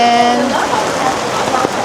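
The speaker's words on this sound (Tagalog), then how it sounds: "lumalakas palalo ang ulan, guys" Heavy rain patters on surfaces at a night market in Taipei, a loud steady hiss with a brief tonal hum at the start and a voice speaking nearby.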